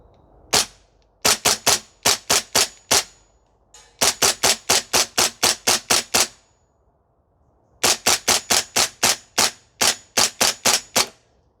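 Airsoft Sig Spear LT 11.5 gas blowback rifle firing on a range: three bursts of rapid, sharp, evenly spaced cracks with brief pauses between strings, loud and close, no talking.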